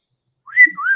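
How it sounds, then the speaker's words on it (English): A single short whistle rises and holds, bright and clear, after a moment of silence. "Hey, quit whistling at me,"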